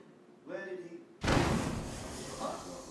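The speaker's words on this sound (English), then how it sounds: "Sounded like gunfire. Someone shooting." A sudden loud, broadband gunshot-like blast in Assassin's Creed Unity, set in revolutionary Paris, bursts in after a faint voice and rings on with a noisy decaying tail.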